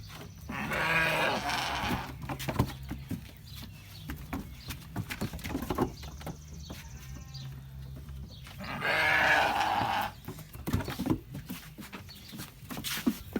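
Lambs bleat in two loud, drawn-out bursts, one near the start and one later, with quieter rustling and shuffling in between.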